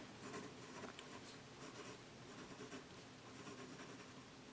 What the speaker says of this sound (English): so this is our cross-hatching right here